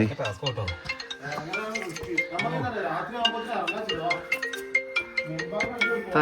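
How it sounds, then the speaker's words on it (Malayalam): A mobile phone plays a melodic ringtone during a steep climb at Harihar Fort, its warbling tones fairly loud and close, with voices talking over it. "റിംഗ് ടൂണി ആയിരിക്കും"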